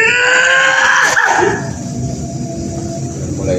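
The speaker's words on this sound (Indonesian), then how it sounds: "Mulai ada teriakan hasil deteksi energi ini" A person screams loudly and sustained, close up, during a martial arts energy-detection exercise with a staff, then the cry breaks off into rough ambient noise.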